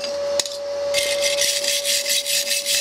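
Wire brush scrubbing black soot off a fresh aluminium MIG weld made with an R-Tech MIG180 spool gun: a steady, close rasping scrub in rapid repeated strokes, with a constant high electrical whine running underneath.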